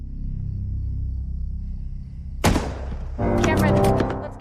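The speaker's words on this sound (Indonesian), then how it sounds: "Allison dan Cameron mendengar suara tembakan" Gunfire inside a house: after a quiet low rumble, a sharp loud blast cracks out, followed a moment later by a burst of further harsh, rapid shots.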